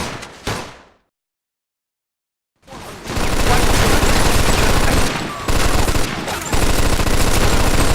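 Gunfire in the video game Mafia II: a couple of sharp shots, a brief silence, then sustained loud automatic fire with rapid bursts continuing to the end.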